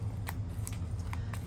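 A deck of playing cards is shuffled during a solo game of Star Wars Villainous, a few quick crisp riffling snaps spaced apart over a low steady room hum, close and fairly quiet.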